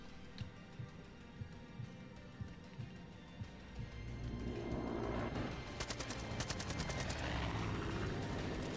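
Gunfire in the video game Far Cry 5 around Fall's End: soft scattered thumps over a low hum give way midway to a loud, dense barrage of rapid automatic shots with no talking.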